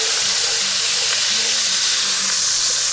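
Onions and celery sauté in a Dutch oven over a campfire for Brunswick stew, giving a steady, close, loud sizzling hiss that holds unbroken for the whole stretch.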